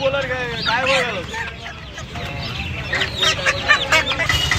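Chickens cluck and squawk at a busy poultry market selling desi hens, with several birds calling close by in overlapping bursts and people talking in the background.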